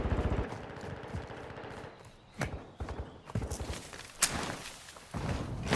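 Gunfire in a Call of Duty multiplayer match: rapid automatic bursts crackle close by, broken by sharp single shots and short lulls, with a loud crack near the end.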